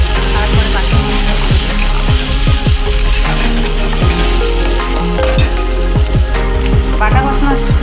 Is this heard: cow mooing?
no